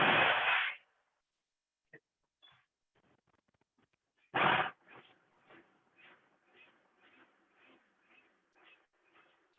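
A food processor blitzes crumbs for a no-bake chocolate peanut butter pie in two short, loud pulses, each under a second, followed by faint rattling and scraping of the bowl contents in the quiet between.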